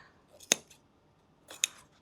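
Two sharp snips of scissors cutting out the eye socket of a fursuit head, spaced about a second apart, close and crisp against a quiet background.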